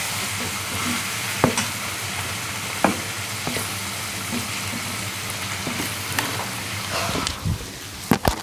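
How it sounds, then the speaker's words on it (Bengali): Meat frying in a pan and being stirred, a steady close sizzle throughout with sharp scraping clacks of the spatula at irregular intervals. "ওখানে মাংসটা আমার একটু নাড়াচাড়া করতে হবে।"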